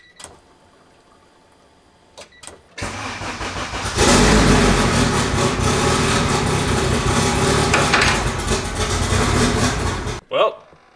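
A turbocharged Honda EG engine cranks briefly with a few starter clicks, then catches and runs loudly and steadily for several seconds before cutting off abruptly, with a short burst of sound after.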